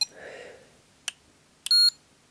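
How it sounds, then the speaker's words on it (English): A multimeter testing a faulty capacitor beeps: a short click-like chirp, then a sustained high steady tone about a fifth of a second long, close and clear. "you hear the change in the beep, and that means the meter's gone"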